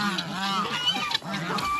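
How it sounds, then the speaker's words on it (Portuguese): Dirty geese honk loudly and close by, a run of harsh, repeated nasal calls overlapping one another for under two seconds. "essas patas, esses gansos estão tudo sujos, hein?"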